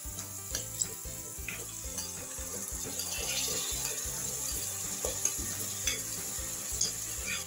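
Green peas stirred into a hot pan with ground green masala paste of coriander, chili, ginger and garlic for matar rice, frying with a steady close sizzle and repeated scraping stir strokes, no talking.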